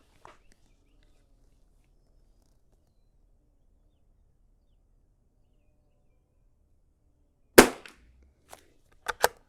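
A single sharp crack from a .22 rifle firing Norma Match-22 ammunition at an outdoor range, loud and close against quiet air, followed by a couple of fainter clicks and knocks.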